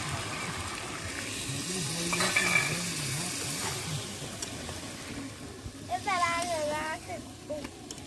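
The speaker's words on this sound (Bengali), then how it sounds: "শাক ভাজা হয়ে গেছে, এবার নামিয়ে নেবো।" Red amaranth greens fry in a pan in a home kitchen, giving a steady sizzle with stirring and scraping, while faint voices come and go in the background.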